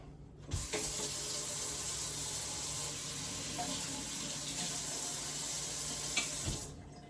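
Water runs steadily from a kitchen tap to wet a knife blade, a continuous close hiss and splash that starts abruptly and cuts off near the end, with a couple of small clinks of the blade, no talking.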